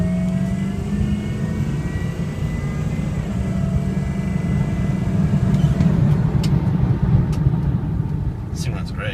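Steady low rumble of a 2004 Ford F350 diesel 4x4 dually truck on the move, a continuous drone of engine and road noise from inside the cab, with a faint rattle near the end.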